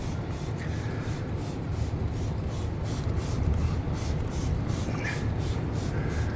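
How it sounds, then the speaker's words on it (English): Fresh-scent Vamoose odor spray misted onto car seats, a soft repeated hiss of pump sprays running steadily over a low background rumble. "we're gonna spray down the seats like this"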